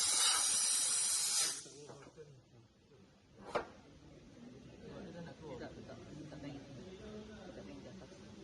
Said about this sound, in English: direct the air at the connection hole on the caliper and hydraulic cable